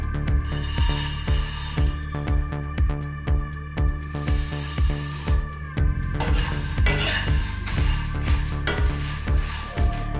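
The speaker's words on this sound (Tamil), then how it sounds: "இப்போ நம்ம பொரியை பொரிச்சு எடுத்துடலாம்." Puffed rice being roasted in a pan while a spoon scrapes and stirs, giving regular rhythmic metallic clanks and rustling grains, close and steady with no talking.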